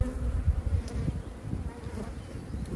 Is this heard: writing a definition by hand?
no